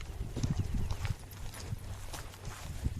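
A horse walks through a barbed-wire pasture, its hooves giving a series of close, dull clip-clops in an uneven rhythm over a low background rumble.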